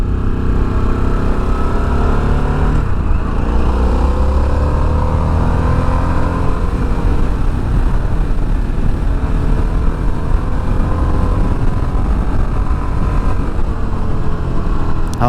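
A 2024 Harley-Davidson Sportster S motorcycle accelerates on a test ride, its loud, steady engine roar rising in pitch and mixed with wind rush throughout, with no talking.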